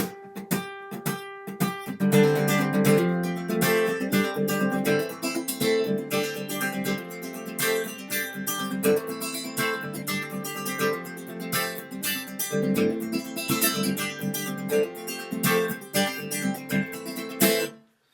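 An electric guitar plays the fast, driving verse riff of a song, quick repeated notes and chords, continuing steadily for a long stretch before stopping.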